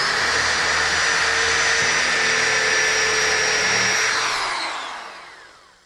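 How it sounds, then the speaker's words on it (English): A power drill with a 3/32 inch bit drilling through wooden corner braces whines steadily at high speed for several seconds, then winds down as it stops. "I'll take a 3/32 inch drill bit and drill through my four corner braces into the top"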